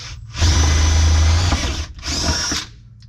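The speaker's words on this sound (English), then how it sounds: "We're now going to take that off, and we are going to drill these out 3/8." A power drill whirs loudly drilling 3/8-inch holes through the thin floor of a 1988 Ford F700 truck in two sustained bursts, pausing briefly between them, with no talking.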